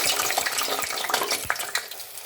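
Onions dropped into hot vegetable oil in a pot for deep frying, giving a bright continuous sizzle with small crackles and a few clinks from a utensil.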